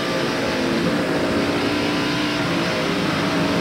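NASCAR stock car engines at the 1993 Save Mart Supermarkets 300 road race, a loud continuous roar of cars driving through the turns, holding steady without breaks.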